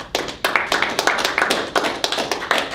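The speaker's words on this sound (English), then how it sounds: "Let's give them one more round of applause." A handful of people clap for student robotics teams at an engineering competition, the claps sharp and close, broken into uneven bursts rather than a dense roar.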